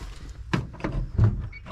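An old Electra Freeze ice cream van's door creaks open in a few short, scraping squeaks, close and fairly loud.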